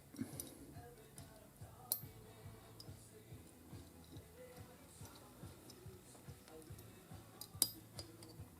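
A sear is worked into the action of a Winchester 1873 rifle, producing faint, quiet metallic ticks, clicks and small clinks at irregular intervals against a low background, with no talking.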